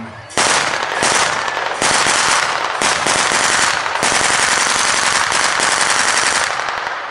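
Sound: Browning 1919 machine gun firing

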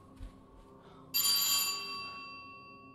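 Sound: doorbell ringing in video game At Dead of Night

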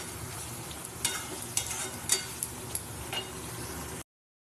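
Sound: potatoes and spices being sautéed in oil

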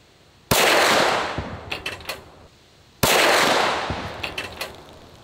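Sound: pistol shot fired at a torso target at 100 yards

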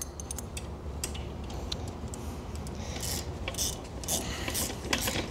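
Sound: ratchet wrench tightening swing assembly bolts

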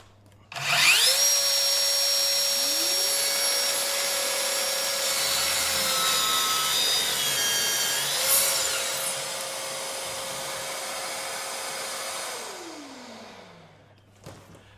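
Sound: plunge-cut circular saw cutting wood

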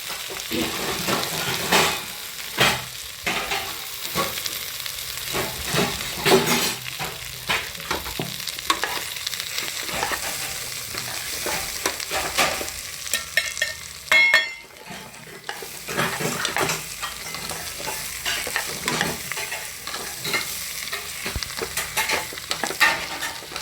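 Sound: roasting spiced rice in a pan

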